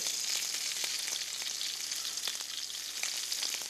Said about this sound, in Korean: 이런 식으로 지금 어느 정도 이제 볶여지면서 마늘 자체의 성분이 나올 수 있게끔 이제 만들어 주시고요